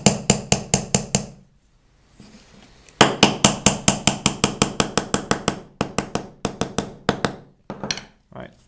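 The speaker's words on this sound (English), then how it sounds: "And just hammer it in." Repeated sharp hammer blows driving small dark and light wooden pieces into a handmade wooden baby rattle, in two quick runs of steady, loud, close strikes separated by a short pause.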